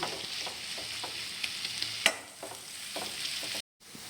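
Green peas and egg masala sauté in a pan, with a soft continuous sizzle under repeated spoon strokes and light scraping, one sharper clink midway, then a brief dropout near the end.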